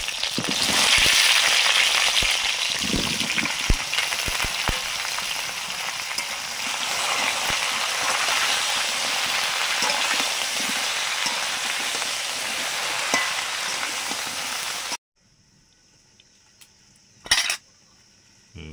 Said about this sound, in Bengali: ঢেঁড়সগুলো ভাজছি।